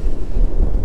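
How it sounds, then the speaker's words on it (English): Strong storm wind buffets the microphone in a brief, loud, low roaring rumble with no voices. "It's storming again. Really windy."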